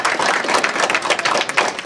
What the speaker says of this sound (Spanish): Fuerte aplauso a los de Pandel y Lancaster.